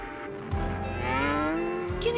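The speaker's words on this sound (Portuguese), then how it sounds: "Ora, são vacas, claro." A cow moos loudly and nearby in a long, drawn-out low call that rises and wavers, with quieter cattle sounds underneath.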